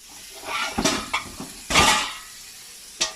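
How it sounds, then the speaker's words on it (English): Metal cooking pot lifted out and handled in a kitchen while making Thanksgiving stuffing: several close clanks and scrapes, the loudest about midway, followed by a single sharp knock near the end. "Now we're going to take another pot"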